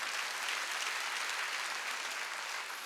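A church congregation at a Wednesday worship service applauds in a dense, sustained burst of clapping that stays loud and even throughout.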